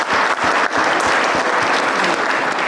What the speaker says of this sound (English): Please give all of these guys a round of applause for it.